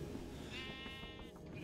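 Minecraft sheep bleating once in a drawn-out, wavering call over steady background game noise, moderately quiet, with no talking.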